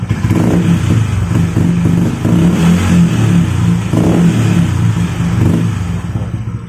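A Honda Vario scooter fitted with a copy CMS aftermarket exhaust revs hard and loud, a continuous throaty engine drone with rising and falling swells of throttle, close up with no talk.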